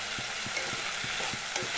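Egg curry with potatoes sizzles softly in a pan on a gas stove, with a regular series of quiet stirring scrapes against a steady frying hiss.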